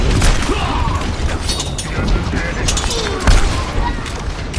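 Pharah fires rockets in the video game Overwatch, with dense, loud bursts of explosions and gunfire churning continuously under excited overlapping voices of players talking.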